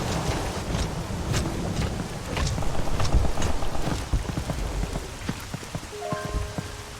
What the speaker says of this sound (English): rain coming down